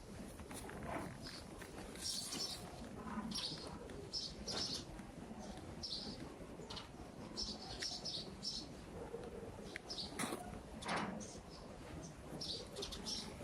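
A pigeon coos softly amid scattered chirps and light outdoor background noise, the calls repeating at irregular intervals at a moderate distance, fairly quiet overall.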